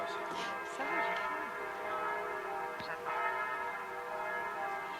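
Church bells ring continuously, a sustained layered peal with overlapping strikes and lingering resonance, steady and moderately loud throughout, with a faint voice briefly heard beneath.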